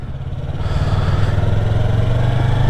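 A Yamaha R3 motorcycle engine pulls up under a little throttle as the clutch is let out, giving a loud, steady low drone that climbs slightly in pitch and stays close and continuous throughout.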